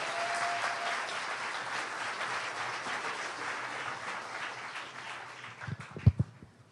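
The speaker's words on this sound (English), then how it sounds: "can we get a big round of applause" An audience applauds to welcome a speaker at a talk, with steady, dense clapping that fills the room and then tapers off, ending in a few louder handling thumps.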